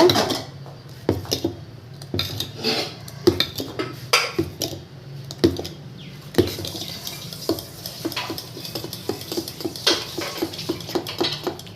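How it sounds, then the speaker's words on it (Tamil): Ground balloon vine paste is mixed into dosa batter in a vessel, with repeated wet stirring and sharp clinks and knocks of a spoon against the rim, irregular and close, without voices. "இந்த மாவில் ஊற்றிடுங்க ஊற்றி நல்லா கலக்கிக்கோங்க"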